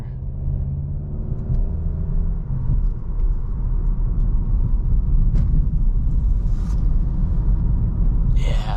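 A 2021 VW Golf GTI with DSG gearbox drives through a road corner: a steady low engine and tyre rumble heard from inside, with a brief shift in pitch and a couple of faint clicks.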